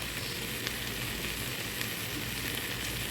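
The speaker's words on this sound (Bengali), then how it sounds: "চালটা আমি ভালো করে ভেজে নিব।" Pulao rice frying in a pan for saffron pulao, giving off a steady, dense sizzle that stays close and even throughout, with no voices.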